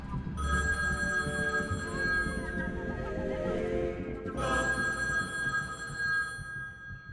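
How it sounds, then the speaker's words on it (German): A telephone rings in the Copycat video game, a steady electronic bell tone repeating throughout, pausing briefly before resuming, loud and close over a low background hum. "Geh nochmal ans Telefon, Frau."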